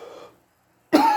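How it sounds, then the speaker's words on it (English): A single short cough bursts out abruptly near the mic after a moment of quiet, preceded by a faint murmur of voice. "I'm still getting over this cough."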